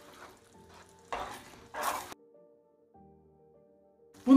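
Eggs cracked into a pan and stirred, a few short scraping and stirring bursts with quiet gaps between, then a louder clatter at the very end.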